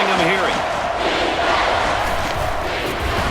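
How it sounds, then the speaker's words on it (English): Stadium crowd roaring in NCAA Football 10, a dense, steady wash of cheering and yelling that stays loud throughout, with a commentator's voice briefly over it at the start. "The crowd is really letting them hear it"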